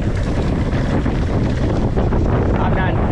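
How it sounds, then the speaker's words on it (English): Strong gusting wind buffets the microphone during a mountain bike ride on a rooty Bay Area trail, a loud continuous low rumble that fills the whole stretch without let-up. "It's so windy."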